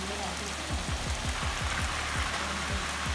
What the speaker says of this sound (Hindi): काफ़ी तेज़ बारिश लग गई है